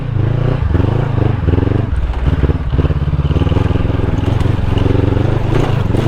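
A motorcycle engine chugs loudly and steadily up close on a road in Zambales, Philippines, its rhythmic throbbing pulse continuous throughout with some rattling from the ride.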